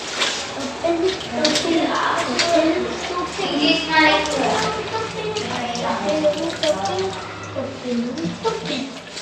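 Fenugreek leaves and brinjal being washed in water, splashing and running water nearby throughout while several people talk over it, including a child.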